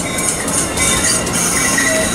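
A train braking at Fullerton station, its wheels squealing in high sustained tones over a continuous rolling rumble, loud and close with no talking.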